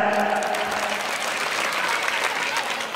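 Loud, dense applause from a crowd gathered at a school event, clapping for visiting teachers from other schools, steady and sustained throughout.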